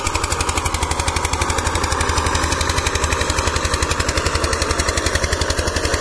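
An Eicher 242 tractor pulls a cultivator through a field being prepared for potatoes, its engine hammering out a loud, fast, steady exhaust beat close by for the whole stretch with no pause.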